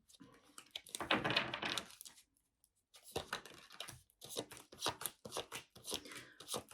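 Close, crisp card shuffling in rapid flurries, a short quiet gap, then a run of quick snapping riffles.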